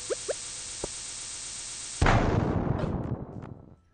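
A bomb goes off in Skull Cavern in the Stardew Valley video game: a sudden loud, broad blast after a couple of small game pops, with a rumbling crackle that fades over the next two seconds.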